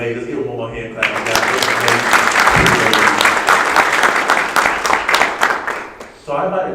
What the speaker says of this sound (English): Let's give him one more hand clap.